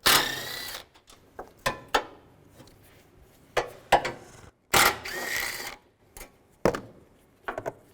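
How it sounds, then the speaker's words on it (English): A 10mm socket ratchets out radiator bracket bolts on a 2006-2011 Cadillac DTS, giving short, sharp bursts of clicking and metallic clatter separated by quiet pauses. "To be able to move the radiator slightly, I'm going to take these two brackets out. Use a 10mm socket."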